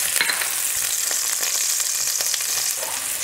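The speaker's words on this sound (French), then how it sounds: "la première étape, c'est faire revenir les oignons et les échalotes." Onions and shallots frying in hot oil give a dense, continuous sizzle with scattered small crackles and stirring sounds, close and fairly loud, with no voices.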